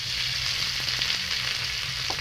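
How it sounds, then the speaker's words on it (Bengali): Snakehead (shol) fish sizzles in hot oil in a pan, a steady, loud, dense hiss with small crackles throughout. "তেলটা আমার গরম হয়ে গেছে আমি এখন মাছকে দিয়ে দেবো"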